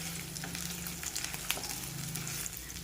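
Paneer sautés in a pan with a steady, close sizzle and light crackling, a few sharper pops mixed in, running evenly throughout with no talk.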